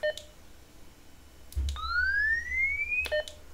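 Alarm function of an Ailunce HD2 handheld radio sounding: short beeps, then a rising electronic tone sweeping upward for over a second, followed by more beeps, clear and close.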